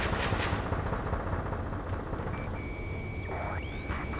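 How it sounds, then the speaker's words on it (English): Dense, continuous rattling gunfire under a rumbling wash of jet roar in city streets in the video game Ace Combat 7: Skies Unknown, with a faint electronic tone rising near the end. "Gunfire and the roar of jets echoing through the streets."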